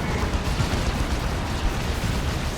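Melter weapon shots in the Warhammer 40,000: Dawn of War 2 video game, a loud dense roaring blast with crackling bursts sustained across the whole stretch, no speech over it.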